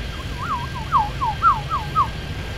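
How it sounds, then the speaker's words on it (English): Fire engine sirens in the airport simulation game Airport Madness 3D: a fast, repeating wailing sweep in a steady rhythm, clear and fairly close over a low background hum. "the fire engines."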